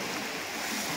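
Sea waves wash along the Konkan coast in a continuous, broad rushing surf, steady and fairly loud with some wind noise and no voices.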